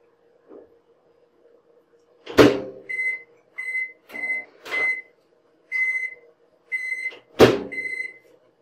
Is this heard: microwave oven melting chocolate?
yes